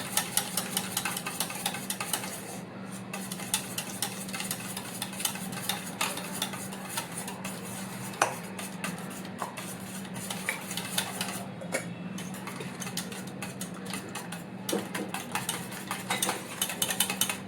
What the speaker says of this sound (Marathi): सर्व अंडी चांगली एकजीव अशी फेटून घ्यायची पूर्ण